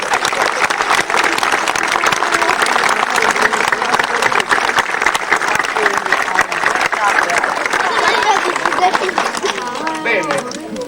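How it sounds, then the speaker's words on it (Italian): Warm, sustained applause from a crowd at a twentieth-anniversary gathering of a friendship association in San Giovanni Suergiu, dense steady clapping filling the room throughout, with voices mixed in beneath. "E io con un caloroso e grande applauso"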